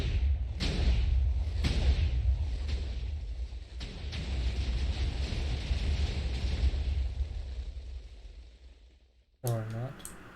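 Minecraft TNT cannon firing, several deep thumping booms in quick succession over a rumbling bed that fades out before a short click.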